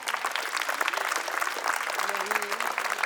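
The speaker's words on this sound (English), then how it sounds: "give a big round of applause for yourself" An audience at an interschool competition applauds steadily, a dense wash of clapping that fills the whole short stretch without pause.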